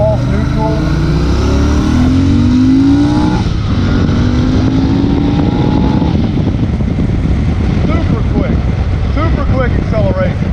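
An Interceptor INT 650 motorcycle accelerating, a loud close engine drone rising in pitch through the gears under continuous wind rush, with a voice talking over it.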